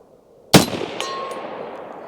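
A .30 Carbine bullet hits a steel target with a single sharp clang, followed by a short metallic ring that fades away.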